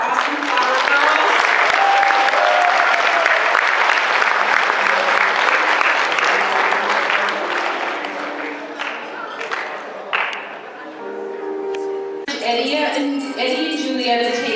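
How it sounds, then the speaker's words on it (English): Wedding reception guests applaud the flower girls in a full, loud burst of clapping that gradually thins out, with voices and cheers mixed in before music rises toward the end. "Can I get a round of applause for our awesome flower girls?"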